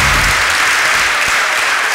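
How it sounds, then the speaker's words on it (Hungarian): Dense, steady crowd applause for the Székelyudvarhely team, honoured for fourth place at a quiz-show final, filling the whole stretch at close range. "Nagy tapsot érdemel a kiváló székelyudvarhelyi csapat, akik a negyedik helyezést érték el."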